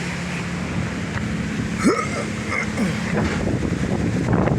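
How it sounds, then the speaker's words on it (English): Wind rushing and buffeting against the microphone outdoors as a storm blows in, a constant roar with gusts and a brief squeak in the middle. "there's a big storm blowing in, and I want to lower my hood. It's starting to get a bit windy."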